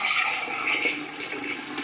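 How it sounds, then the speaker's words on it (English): Water pours into the container of a water machine, a steady close splashing rush that fades slightly near the end, with no talking. "we're just going to pour our water right in there"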